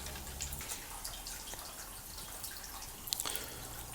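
Water drains and drips from the gearbox of a Honda 50 outboard boat motor, a soft continuous trickle with scattered small splashes, close by and alone.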